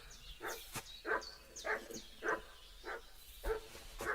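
A dog barks in the video game Kingdom Come: Deliverance 2, about seven evenly spaced single barks, fairly quiet and set slightly back.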